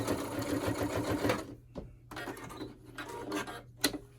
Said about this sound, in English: now I want to sew the side edges all the way across